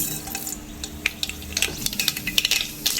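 Mustard seeds splutter in hot oil in a home kitchen pan, giving a close series of sharp crackles and pops over a light sizzle, irregular and getting busier toward the end, with no voices.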